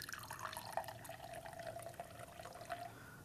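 Vinegar poured into a glass for a baking soda reaction, a steady close liquid trickle and splash running for a few seconds, with no one speaking.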